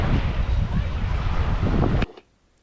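Loud gusty wind buffeting the microphone at Rabbit Island Beach, New Zealand, a rough roaring rush that cuts off abruptly, leaving near quiet.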